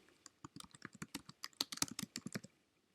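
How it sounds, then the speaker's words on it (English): Typing on a computer keyboard: a quick, uneven run of crisp key clicks close to the microphone, building to a dense flurry and then stopping, with no voices. "And so I'm going to start typing."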